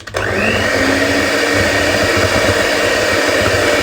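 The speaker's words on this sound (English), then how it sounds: "It's just easier with an electric mixer. So let's do that. I think it's switched on." An electric mixer whirs loudly and continuously, close by, as it creams butter and sugar for Biscoff blondies, starting abruptly and holding a steady motor drone.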